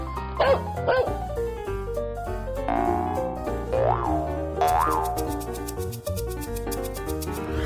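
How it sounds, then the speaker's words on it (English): A cartoon dog barks a few times in a children's animal-sounds song, short yips layered over bright, bouncy music. "Dog!"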